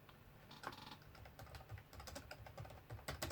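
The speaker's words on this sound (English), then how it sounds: "just typing stuff into YouTube." Typing on a computer keyboard, with irregular clusters of quiet key clicks at a close but soft level over a steady low background hum.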